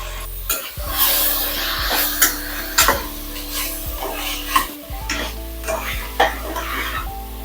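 Fresh mint hits a hot pan and sizzles while a spoon stirs it, giving a steady fry under repeated scrapes and clinks against the pan at an uneven pace.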